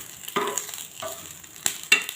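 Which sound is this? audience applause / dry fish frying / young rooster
dry fish frying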